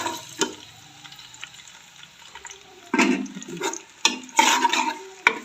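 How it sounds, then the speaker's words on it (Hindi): Garlic and onion are roasted in hot ghee in a pressure cooker, making an intermittent sizzle with bursts of scraping and stirring that come close and fairly loud, then ease off between strokes. "अब अच्छी तरह की लहसुन प्याज की भुनाई कर लेती हूँ।"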